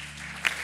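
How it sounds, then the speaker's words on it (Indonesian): A church congregation applauds in a brief burst of dense, steady clapping that fills the space. "Tepuk tangan."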